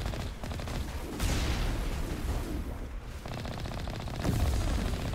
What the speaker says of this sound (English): our gun's overheated because I'm pulling the trigger too much